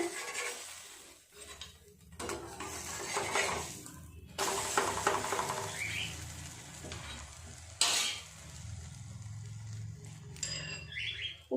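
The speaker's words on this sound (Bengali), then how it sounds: "একটা পাশ ভাজা হয়ে গেছে এপিঠটা আর একটু উল্টে ভেজে নেব" Bread slices dipped in an egg-and-milk batter fry as French toast in a pan, hissing with a continuous sizzle broken by scraping and clattering as the pieces are moved and flipped.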